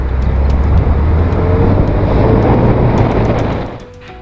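A Porsche car's steady engine and road rumble heard from inside the cabin, droning evenly for several seconds before easing quieter at the end.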